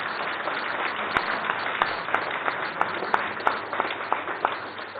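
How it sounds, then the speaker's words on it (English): An audience applauds steadily for several seconds at a BIS Foundation Day 2023 event, with a dense wash of clapping and a few sharper individual claps standing out. "I think they deserve a round of applause."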